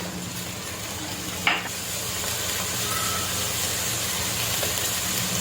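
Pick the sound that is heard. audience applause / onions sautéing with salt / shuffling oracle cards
onions sautéing with salt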